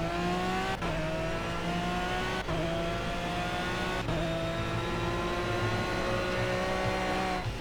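An Aston Martin V12 Vantage GT3 laps the Le Mans Bugatti circuit in a racing video game. The engine drones steadily and loudly, with pitch climbing through the gears and three quick shift breaks. No one speaks.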